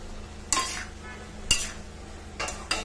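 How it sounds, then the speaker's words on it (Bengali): A spoon scrapes and knocks through ginger and tomato in a cooking pot, with four or five distinct stirring strokes over a faint background sizzle and no talking. "এয়া মই গোটেইখিনি লৰাই দিলোঁ"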